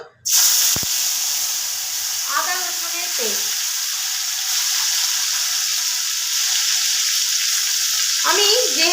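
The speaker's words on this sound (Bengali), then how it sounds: "তেলটা কড়ার চারিধারে লাগিয়েও নিয়েছি এবার আমি দিয়ে দেব এক ফোঁটা সামান্য একটু হলুদ গুঁড়ো দিয়ে দেব" Ground turmeric dropped into hot oil in a wok, a loud steady sizzle and hiss with a sharp clatter at the start and a few brief scraping bursts, no speech.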